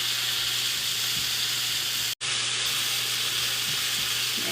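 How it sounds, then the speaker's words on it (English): Loud, continuous sizzle of minced garlic frying in a hot pan, broken by a brief silent gap before the hiss resumes. "I'm going to give it a nice stir so it can sizzle up"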